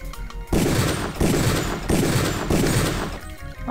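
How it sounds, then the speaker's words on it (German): Rapid bursts of gunfire in the video game Deus Ex, loud and dense, breaking into several volleys separated by brief gaps, with a quieter lull at the start and fading near the end. "Ich dachte, ich könnte die hier rauslocken, indem ich rumschieße."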